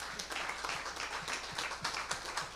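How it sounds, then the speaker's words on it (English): Scattered audience applause at a health equity summit, fairly faint and steady with distinct individual claps standing out over about two and a half seconds. "please, a round of applause for Ms. Thomas."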